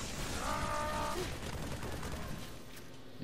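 Fast, repeated gunfire crackles from the video game Halo 3: ODST, a brief, fairly quiet stretch of rapid shots mixed with mechanical clatter.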